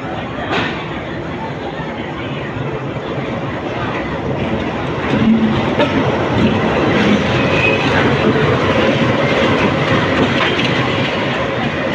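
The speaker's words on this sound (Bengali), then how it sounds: "এখন আমি শিয়ালদা বালুরঘাট এক্সপ্রেস ধরে বাড়ি যাব এবং আমি জেনারেল ক্লাসে জার্নি করছি" Sealdah Balurghat Express train running on rails with a steady, loud rumble throughout, faint rhythmic clatter, and a slight swell midway; voices murmur faintly in the background.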